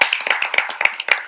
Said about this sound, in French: Applaudissements alors pour les Diva Swing